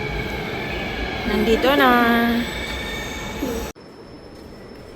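MRT train running on rails, a loud steady rumble with a rising wheel squeal partway through, then cutting off abruptly; a voice speaks briefly over it.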